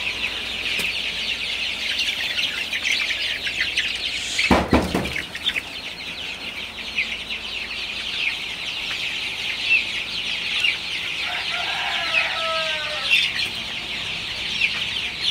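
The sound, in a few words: chickens clucking in farm shed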